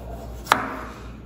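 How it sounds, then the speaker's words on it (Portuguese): A single sharp knife chop through a tomato on a cutting board in a home kitchen, one crisp close impact standing out against faint room noise with no talk. "Agora eu vou estar picando um tomate,"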